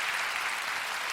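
An audience at a prayer meeting breaks into applause, a brief, dense wash of many hands clapping together, soft and somewhat distant.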